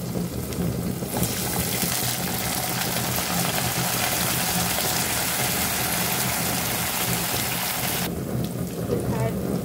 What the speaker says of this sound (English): We'll add a bit of water.